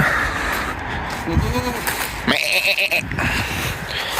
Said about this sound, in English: And these are the goats, Darwin and Violet.